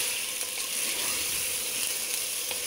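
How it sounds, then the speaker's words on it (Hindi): Ginger and garlic sizzle in hot oil in a pan while a beef paya (buffalo trotters) dish is cooked, making a continuous close, bright frying hiss with small crackles and no talking. "फिर अदरक लहसुन डाल देना। और इसको अच्छी तरह से भून लेंगे"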